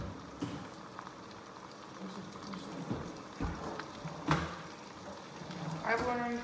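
Brown trout sizzles in a pan of melted butter, a steady crackling fry with occasional louder pops, while a person talks over it.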